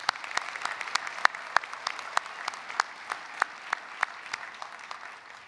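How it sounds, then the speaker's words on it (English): Audience applause for a brass ensemble at a university commencement in a field house, a dense, steady wash of clapping with distinct sharp individual claps standing out rhythmically throughout. "Can we give them another round of applause?"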